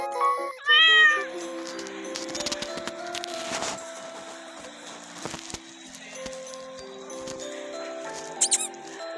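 A kitten meows repeatedly in a video game, giving high, wavering cries scattered across the stretch among soft pattering and clicking game sounds, and one loud burst near the start.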